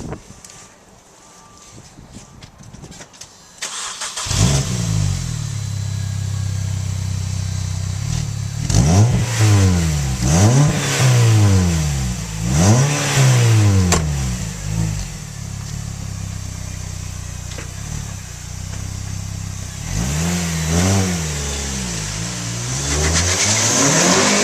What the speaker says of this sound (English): let's see if we can just do some basic starting the car and getting an idea of what it sounds like